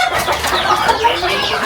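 A chicken clucks loudly and close by in a rural Philippine yard in Infanta, Quezon, giving a run of short, choppy clucks without speech.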